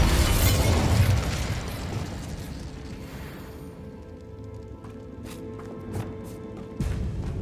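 A Bombarda explosion spell goes off in Hogwarts Legacy with a loud, near boom that fades into a rumbling tail. Smaller pops and thuds follow, with a further impact near the end.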